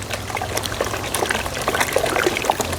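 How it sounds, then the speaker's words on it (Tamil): Cow dung slurry mixed with water pours into a small home biogas digester, a steady wet trickling and splashing with a low hum underneath and no talking. "நம்ம கரைச்சி வச்சுருக்கக்கூடிய மாட்டு சாணத்தை வந்துட்டு நம்மளோட டைஜஸ்ட்டில் வந்துட்டு ஃபில் பண்ணிக்கலாம்"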